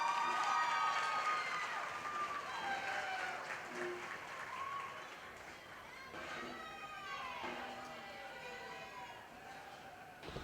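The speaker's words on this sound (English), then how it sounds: "just a big round of applause to everybody running the show" Applause from the crowd at a 2022 county fair market lamb show, a steady broadband patter lasting the whole stretch, with voices rising over it.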